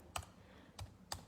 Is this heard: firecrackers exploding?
no